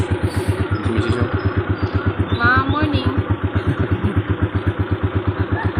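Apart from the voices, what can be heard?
motorcycle engine warming up, idling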